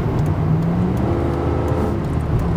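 A loud 1992 Mercedes 500SL (R129) V8 engine with the resonator muffler removed rumbles steadily, deep and throaty with a slight rising rev, recorded close and continuous throughout.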